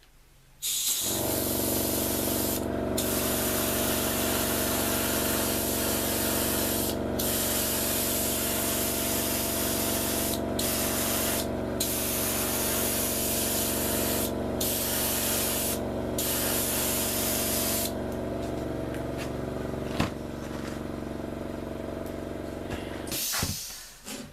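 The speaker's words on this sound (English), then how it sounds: "Sorry about the compressor noise." An air compressor runs steadily and loudly while a 1/350 scale USS Enterprise model is spray painted, with an unbroken hiss and hum interrupted by several short pauses in the airbrush spray, then cutting off near the end.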